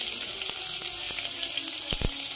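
Mustard seeds, cumin, garlic and green chili crackle in hot oil: a loud, continuous sizzle close up, broken by a few sharp pops and spits near the end.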